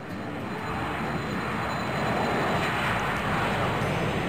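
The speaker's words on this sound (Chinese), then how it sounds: "飞机落地了。" Cartoon airplane landing in the children's travel puzzle game Bei Bei Princess, a steady roaring jet engine whoosh that swells slightly and holds, alone without speech.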